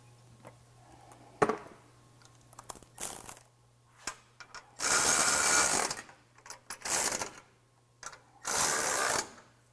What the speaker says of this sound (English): what you want to do is tighten up the frame brackets